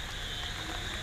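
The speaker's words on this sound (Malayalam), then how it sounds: "എൻ്റെ കൂടെ മഴയും വരുന്നുണ്ട്" Rain falling outdoors, a dense, even hiss of drops that stays steady and moderately loud with no voices.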